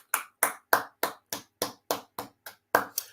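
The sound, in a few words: audience applause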